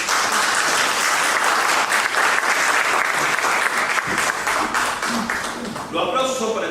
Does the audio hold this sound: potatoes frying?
no